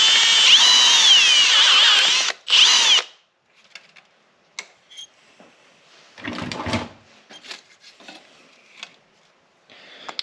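A power drill with a step bit bores through plastic while fitting an E85 fuel system on an LS-swapped wagon: two loud, close whirring bursts, then quiet clicks and handling noises.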